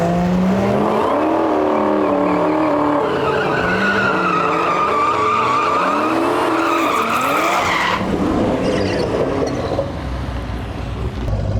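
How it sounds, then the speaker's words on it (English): Toyota Supra with a B58 engine at a drag strip, a loud nearby engine revving up and down with tire squeal as the car pulls to the line, fading slightly near the end. "we got CJ Quinton pulling up the line here with his B58 powered Supra"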